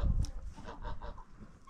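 Farm geese honk in a yard alongside other poultry, several loud nasal calls coming in quick succession at close range, with no talking over them.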